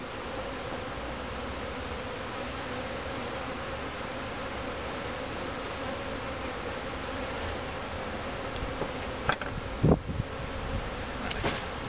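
Honey bees swarm around fragile comb hanging from a top bar hive, a dense, steady buzzing that fills the whole stretch, with a few brief louder knocks and rustles near the end.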